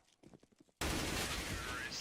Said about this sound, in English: That is a lot of gunfire right there.